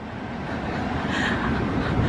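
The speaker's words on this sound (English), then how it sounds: "I'm obsessed with these double-decker trains" A heavy double-decker train rumbles past nearby, a steady low roar with rattling that slowly builds in loudness over a couple of seconds.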